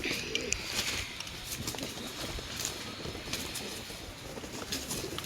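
Pigeons kept for sale coo softly amid a busy, noisy background of rustling and clatter, with the calls partly masked throughout.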